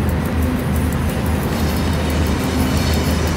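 Freight train of PKP Cargo rolling along a main rail line in the SimRail simulator, a steady loud rumble of wheels on track with faint rhythmic clatter throughout, no talking.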